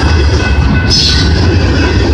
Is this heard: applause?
no